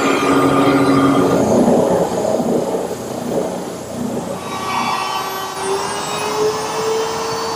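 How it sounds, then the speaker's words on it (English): A bandsaw cuts an arch into an oak rail for a tall case clock in a woodworking shop. The blade's steady, loud whine rises and shifts in pitch as the cut advances, with no talk over it. "I'll cut that over at the bandsaw."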